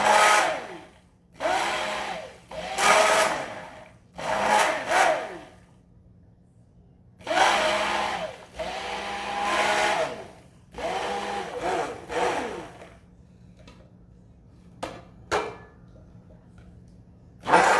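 Coconut oil is mixed with lye powder for Cuban coffee soap, with repeated whirring bursts of a few seconds each separated by short pauses, followed by a few sharp clicks near the end.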